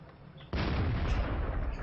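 A tank gun fires in World of Tanks, the AMX 13 90 or S-51, as one sudden loud blast followed by a long roaring rumble that fills the rest of the moment.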